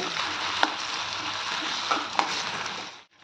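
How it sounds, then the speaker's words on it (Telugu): Steady hissing sizzle of potatoes deep-frying in hot oil, with a few sharp pops and crackles, cutting off abruptly at the end. "ముందుగా మనము ఆయిల్లో ఆలూని ఫ్రై చేసుకోవాలండి"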